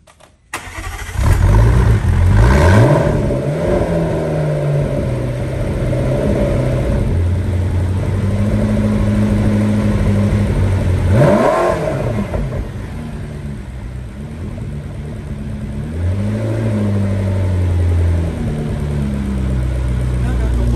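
A supercar engine cranks and fires with a sharp roar, then revs up and down in several rising and falling blips before settling into a deep, loud idle, with people talking nearby.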